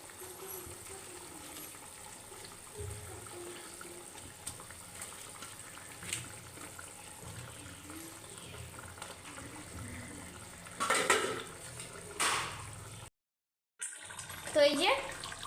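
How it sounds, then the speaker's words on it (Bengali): Prawns go into a boiling curry sauce on the stove: a steady low bubbling simmer runs throughout, then a few louder splashy, sizzling bursts near the end as the prawns drop in, with a brief cut to silence between them. "এরপর আমি মাছগুলো দিয়ে দিচ্ছি।"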